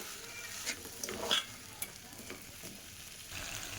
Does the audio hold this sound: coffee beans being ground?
no